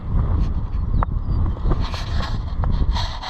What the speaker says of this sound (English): And it's getting windy again.